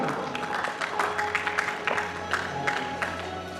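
Applause from an audience of business partners at a company seeds event in Ambikapur, heard as a soft, steady patter of clapping with crowd murmur, moderately distant and fairly quiet throughout.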